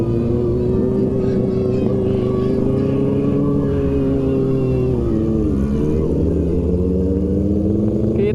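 A bored-up Kawasaki ZX25R motorcycle on a touring ride in Lombok gives a loud, sustained engine drone, holding a high rev with a brief pitch dip before rising again, while voices are heard under it.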